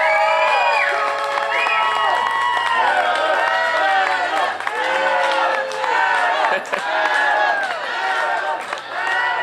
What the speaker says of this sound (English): you can see how excited the crowd is here at Hard Knocks